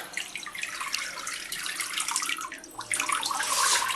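Water is sprinkled over growing seed sprouts, a close splashing rush that briefly pauses and then resumes more strongly.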